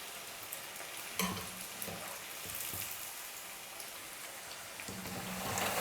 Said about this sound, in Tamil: நல்லா கிறிஸ்பியாக ஃப்ரை ஆகிட்டு வந்துருச்சு